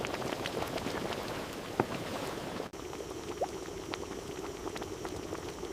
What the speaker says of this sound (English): Extended boiling turns the mixture into a dense, bubbling, caramel-toned mass.